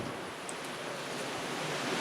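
Wind blows steadily outdoors, a constant broadband rush with no pauses or other sounds.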